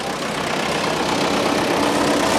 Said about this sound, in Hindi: ट्रैक्टर चल रहा पीछे